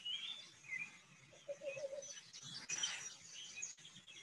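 Warbling vireos and other marsh birds call, with soft chirps and warbled phrases alongside a low cooing note, fairly faint and distant over a quiet outdoor background.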